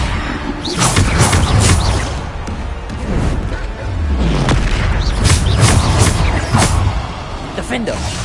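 Blasting spells boom in a Hogwarts Legacy battle, heavy low thuds with whooshes recurring amid continuous loud game noise.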